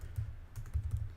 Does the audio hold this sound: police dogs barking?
no